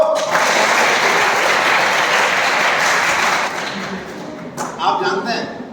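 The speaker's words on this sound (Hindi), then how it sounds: "बच्चों ताली बजाओ।" A group of children clapping together indoors at a health session for young athletes, a loud sustained burst of applause lasting several seconds before trailing off into scattered claps.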